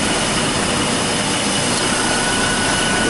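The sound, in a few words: car AC compressor running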